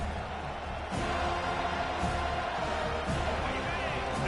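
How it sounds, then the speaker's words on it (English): Stadium crowd at an FSU versus OSU football game: a dense, steady roar of many voices fills the stands, loud and continuous with faint thumps underneath. "This crowd trying to make life miserable for this offense"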